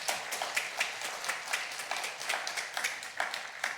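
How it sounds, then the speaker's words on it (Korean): A chapel audience at a university gathering claps for the visiting university president, a faint, fairly even patter of hand claps heard from a distance. "여러분 먼저 박수 한번 하겠습니다"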